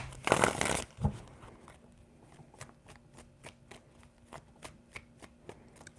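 Tarot cards are shuffled, opening with a loud riffle burst, then a run of crisp, evenly spaced card taps and flicks that fade to quieter clicks, close by with no talking.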